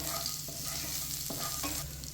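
Three dried red chillies and urad dal sauté in hot oil for a simple lunch dish, giving a soft, steady sizzle with faint stirring scrapes throughout.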